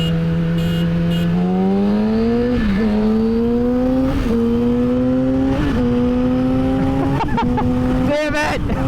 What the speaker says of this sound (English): Let's get these two bikes out on the road and see how they accelerate back to back.